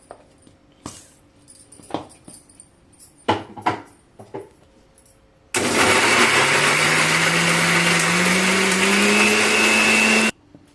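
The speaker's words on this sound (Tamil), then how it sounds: "4 வெங்காயம், 1 தக்காளி, 3 காஞ்ச மிளகாய், கொஞ்சமாக சால்ட்டு. இதை அரைச்சி எடுத்துகிட்டு வந்துடலாம்." A mixer grinder blends onions, tomato, dried chillies and salt. After some clattering knocks, it runs loud and close for about five seconds with a rising whine, then stops abruptly.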